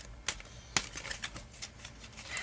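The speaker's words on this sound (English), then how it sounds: "Please do not blame the cards for my lame shuffling." Close, quiet hand shuffling of a tarot deck, with sharp card snaps followed by a loose series of lighter flicks and rustles that ends in a soft riffle, no talking.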